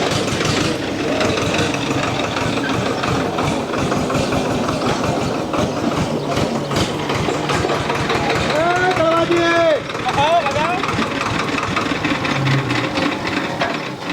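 A tractor engine rumbles steadily nearby throughout, while people talk over the continuous low drone.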